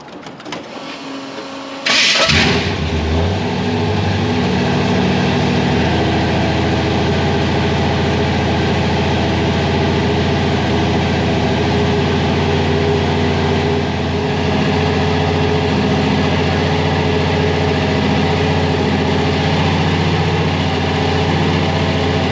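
A supercharged, blown Chevrolet C10 truck engine starts abruptly after a brief quiet moment and then runs loudly and steadily close by, a dense droning idle that holds for the rest of the clip.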